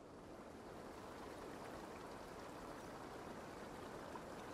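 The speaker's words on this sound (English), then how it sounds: "the spring is the source of this small fall of water right here" A small waterfall fed by a spring in Assassin's Creed Valhalla, a steady broadband rush of falling water that stays even and continuous throughout, with no voices.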